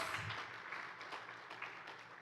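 A church congregation clapping together in an offering of applause, a soft, steady wash of many hands heard at a distance.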